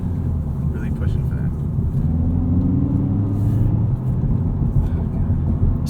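Engine of a 2019 Hyundai Veloster Turbo R-Spec with six-speed manual, heard from inside the cabin while driving: a steady low rumble with a rising drone midway, loud and continuous.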